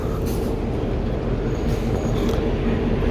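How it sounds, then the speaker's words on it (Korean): Trains run through a large Moscow-bound railway station in St. Petersburg, giving a steady, loud low rumble and rolling noise with faint higher clanks and hiss over it. "열차가 좀 많이 다니는 것 같습니다."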